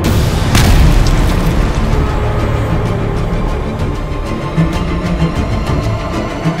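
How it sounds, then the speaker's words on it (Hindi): Arjun tank cannons fire shells during a military firepower exercise at Pokhran, India, booming loudly and continuously, one deep blast rolling into the next in a dense, rumbling barrage. "जब अर्जुन की तोप में गोले उगलने शुरू किए"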